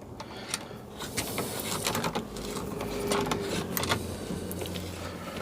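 A router set without its sleeve into the jaws of a SpeTool router lift is tightened, giving a dense run of small clicks, taps and mechanical rattles close by for several seconds.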